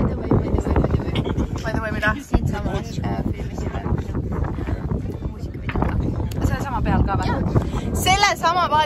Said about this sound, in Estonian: me oleme mingi paadi peal. Sõidame praegu Eesti mere peal.